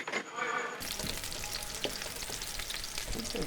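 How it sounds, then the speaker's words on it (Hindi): Onions frying in oil inside a pressure cooker for nihari, a steady close hiss and crackle of sizzling that fills the clip after a brief quiet start, with faint scraping stirs. "प्याज को हमने गोल्डन कर लेना है"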